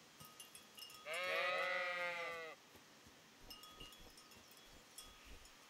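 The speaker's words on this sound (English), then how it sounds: "So what you want to do is actually shepherd the sheep to the top of the field." A single loud sheep bleat, a long wavering cry of over a second, sounds from a field in the Kingdom Come Deliverance video game, with faint ambient rustling and soft taps before and after.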